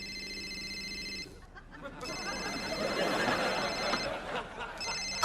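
A telephone rings in a repeating electronic trill, pausing briefly between bursts, fairly close and steady, with a faint background bed and no clear talking.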